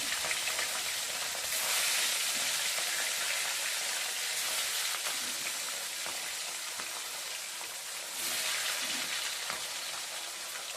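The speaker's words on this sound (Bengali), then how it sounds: "এবার আমি ফিতে মাছগুলো ভাজবো" Ribbonfish fry in hot oil with a steady, bright sizzle and crackle that runs throughout, swelling in louder bursts as the pieces are moved, with no voices over it.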